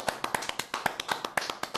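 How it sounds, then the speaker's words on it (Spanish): Clapping from a small group on a Spanish-language radio or talk show, a quick run of sharp, fairly even hand claps close to the microphone, alone without talk. "Un aplauso para David!"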